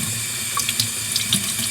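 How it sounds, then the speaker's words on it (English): Tap water runs steadily into a sink to rinse hair combs, a close continuous splashing flow with small drips and clinks over it. "We also want to keep our combs cleaned out, so I'm going to run some water"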